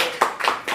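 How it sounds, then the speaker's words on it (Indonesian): Three quick claps of hands from a small group, evenly spaced in a short burst after a hypnosis session by a traffic police officer, with no talk over them. "Tepuk tangan."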